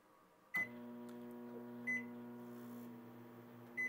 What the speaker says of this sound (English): Into the microwave I go.